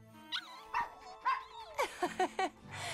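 Animated puppies in a Barbie cartoon yip and bark in short, high-pitched bursts, several quick squeaky barks in a row over soft background music.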